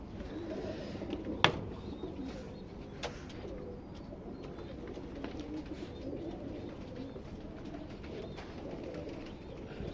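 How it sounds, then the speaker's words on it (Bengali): Benaras pigeons in a breeding loft coo in low, faint, repeated murmurs, with a sharp click early on and scattered light chirps and rustles. "এগুলো সব বেনারস কবুতর, দেখছেন?"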